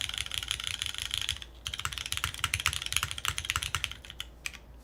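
A Hope TKL mechanical keyboard, top-mounted on a PC plate with modded MX Brown switches, is typed on quickly and steadily: a dense run of close, crisp keystrokes with a brief pause partway through and no voices.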